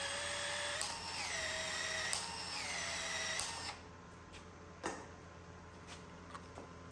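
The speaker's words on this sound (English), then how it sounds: "You'll see that that expansion tool takes a couple more expansions to get that all the way open." A PEX-A expansion tool repeatedly expanding the end of 3/4 inch pipe, a close power-tool whir with rising whining tones that cycles several times, then quieter clicks and taps.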